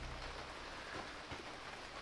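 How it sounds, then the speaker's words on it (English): Steady rain falling outdoors during an oil sump repair on a 1.2 Dacia Sandero, a dense continuous hiss of drops close by, even in level and without voices. "We definitely have got some rain."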